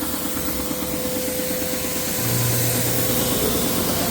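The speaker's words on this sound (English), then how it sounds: "I'm gonna sand these buddies down from 13/16 of an inch thick to 3/4 of an inch thick with the wide belt sander." Wide belt sander in a woodshop running steadily as beechwood kitchen panels are fed through, a loud continuous drone with a low hum that swells slightly partway through, with no talking.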